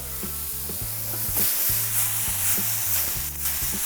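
Steady, close sizzling of beef frying in a hot pan for beef Stroganoff, with occasional scraping and stirring sounds over the continuous crackle.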